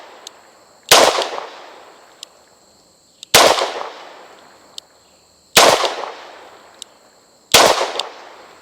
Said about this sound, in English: On we go to 5 body shots from a distance of 15 yards.